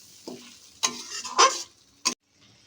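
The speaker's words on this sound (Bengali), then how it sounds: "এবার আমরা এর উপরে আলুটাকে দিয়ে দেবো। প্রথমে আলুটাকে দিয়ে ভালোভাবে মশলাটা মাখিয়ে নেব," Cubed potatoes being stirred and sautéed with spices in a pan for a Bengali ol chingri dish, heard as a few separate bursts of scraping and sizzling with quiet gaps between them and no talking.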